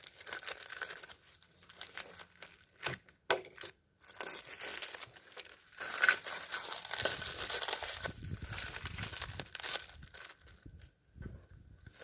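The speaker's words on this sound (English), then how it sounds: "Cut this tape out of the way." Tape is cut and torn away from wooden boards after a rifle test, close-up crinkling, ripping and crumpling in irregular bursts with brief quiet gaps, and no talking.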